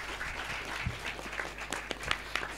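Audience applause at a cultural Tadarus Budaya event at an Indonesian pesantren, fairly faint and scattered, with individual claps standing out over a low background murmur.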